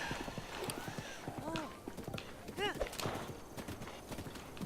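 Rhythmic hoofbeats of a horse galloping in The Legend of Zelda: Breath of the Wild, with a brief whinny, playing under steady talk from a voice over the top.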